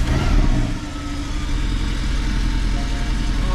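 A Porsche 718 Cayman of the 982 chassis runs with a steady, close engine drone after start-up, a low continuous idle with a slight swell early on and no talk.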